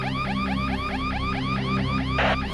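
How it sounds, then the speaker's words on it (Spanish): An office alarm goes off loudly in a fast, repeating electronic warble, steady and close throughout, with a short burst of hiss near the end. "oí que en mi oficina va una alarma"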